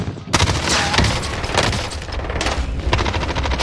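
Gunfire in the first-person shooter Battlefield, played on PC with a controller: dense, loud volleys of rapid shots with booming impacts running continuously throughout.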